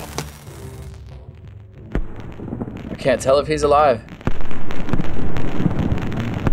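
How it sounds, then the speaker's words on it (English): Fireworks from firework archers explode in the game Totally Accurate Battle Simulator, with sharp pops, whistling bursts and a loud sustained crackling barrage. Someone talks over part of it. "Fireworks are going crazy."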